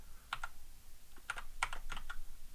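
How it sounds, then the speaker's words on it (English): A computer keyboard is typed on in a few short bursts of close, crisp key clicks separated by brief pauses over steady low background hiss. "let me see if I type it"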